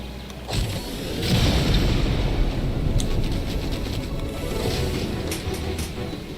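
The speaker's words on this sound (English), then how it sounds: "Well, that was one of the cannons." A cannon fires in a video game, a deep booming blast that swells into a long rumbling, mechanical roar lasting several seconds, with a few sharp clanks near the end.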